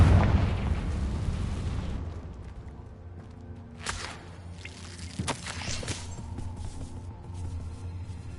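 Confringo blasting spell explosion in Hogwarts Legacy, a loud opening boom that decays into rumble, followed by a few sharper bursts and pops over a low background.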